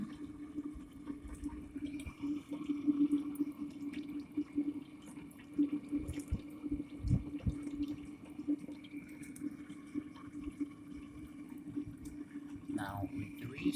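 Water drips from a zero-emission sample apparatus beside a fuel tank, a steady watery trickle with scattered drip sounds over a constant low hum, fairly quiet throughout.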